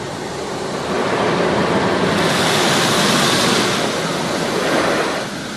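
Dense hissing spray of trifoam soap being applied in an automatic car wash, a loud steady wash of sound that swells after the first second, holds, then eases toward the end.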